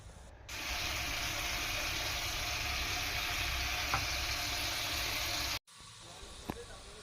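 Cashew and poppy seed paste frying with cumin and coriander powder for a vegetarian Kashmiri aloo dum: a steady, fairly loud sizzle starts after a moment, holds, then cuts off abruptly near the end, followed by quieter clatter.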